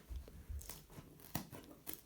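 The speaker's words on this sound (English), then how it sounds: "these scissors are not the best." Scissors snipping through material while cutting a cheap DIY dartboard backing, giving a few short crisp crunching cuts at close range with brief pauses between them.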